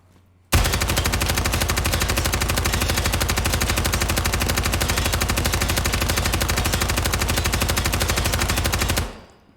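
A light machine gun fires in the tactical shooter game Ground Branch, one unbroken rapid burst of rattling shots lasting over eight seconds, loud and close, then stopping sharply.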